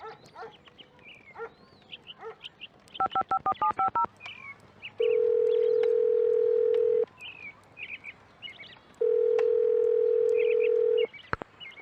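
Telephone redial in the CSI Crime Scene Investigation video game: a quick burst of keypad dialing tones followed by two long, steady electronic tones separated by a pause, with faint background sounds.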